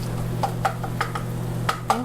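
Taco meat being broken up and minced in a pan, a series of quick scraping clinks of a utensil against the pan over a steady low hum, close and moderately loud.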